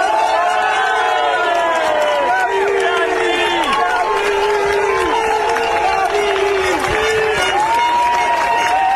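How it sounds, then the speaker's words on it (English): A large street protest crowd in Italy cheers, whoops and claps for police officers, a dense, loud roar of many voices with shouts rising above it throughout. "They're taking off their helmets in unison, a lot of cheering going on."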